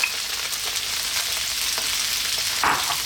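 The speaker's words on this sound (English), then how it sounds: "Simply, let's drop in our onions" Onions sizzling in a pan with leftover sausage bits, a soft steady frying hiss close up with a couple of light stirring clicks and no talking.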